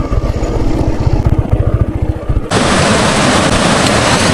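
Motorcycle ridden on a mountain road toward Om Parvat, a loud close engine throb with rapid pulsing under heavy wind buffeting, then giving way to a dense steady roar like rushing water.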